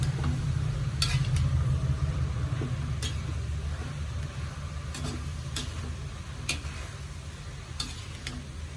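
Drumstick and egg thoran with ground coconut paste being stirred in a frying pan: a steady close sizzle with soft scraping and occasional light clicks of the spoon against the pan.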